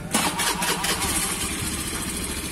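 A motorcycle engine, started by jumpering the starter wire while an alarm is being fitted to a Yamaha Megapro or Primus, cranks and catches, then runs in a steady close, loud idle with a rapid pulsing rhythm.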